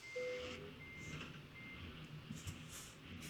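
Reversing beeps from a truck in Euro Truck Simulator 2, a steady repeating electronic tone over the rumble of an idling engine, with a short air hiss toward the end.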